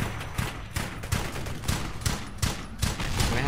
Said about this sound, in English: We're gonna have them keep these suppressing fire.